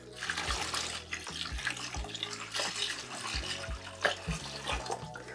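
Water is drawn from a planted aquarium through a simple tube, a steady gurgling trickle with rhythmic pulsing splashes, close and continuous.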